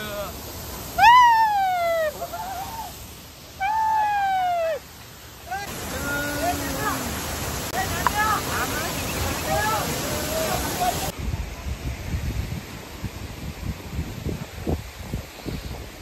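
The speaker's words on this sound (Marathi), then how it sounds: "जोरात असा धबधबा पडत आहे." A powerful waterfall at Raigad Fort pours down in a steady broadband roar that swells louder partway through, with people's voices and shouts heard over it at first.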